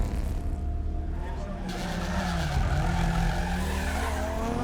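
A Stadium Super Truck at the 2014 Race of Champions in Barbados skids after leaping a barrier: a loud, sustained tyre squeal over a roaring engine, with a commentator talking over it.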